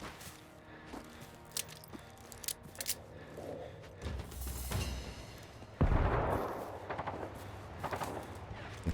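Gunfire in the video game Generation Zero during a base assault, with scattered distant shots popping at irregular intervals and a heavier burst of firing near the end over a low background rumble.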